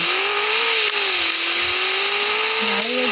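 A car engine in a driving video game hums and revs steadily, a continuous close drone that rises and shifts pitch slightly, with no talk.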